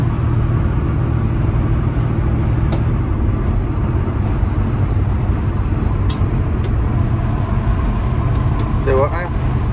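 Car driving, heard from inside the cabin, with a steady low engine and road rumble throughout and occasional light clicks and rattles, while people talk over it.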